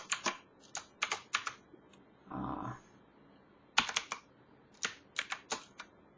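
Keystrokes on a computer keyboard come in quick clustered bursts while R code is typed, with a short soft rustle in the middle, close and fairly quiet.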